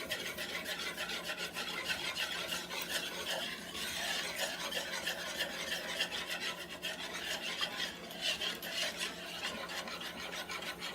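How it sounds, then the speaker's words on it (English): A wire whisk rasps and scrapes continuously against a bowl while sugar is stirred into honey walnut cake batter, a close, steady scratching with no talk. "So I'm just stirring with a wire whisk."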